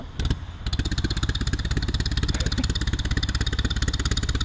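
A Minneapolis Moline UTU farm tractor engine running steadily nearby, a loud, even, rapid putt-putt chugging after a brief uneven start, with faint clatter.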